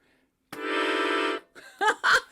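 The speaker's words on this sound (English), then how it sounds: "Imagine if you could play all those notes at once. It might sound like this." One dense, dissonant chord with many notes sounds at once and holds for about a second, then cuts off before brief speech follows.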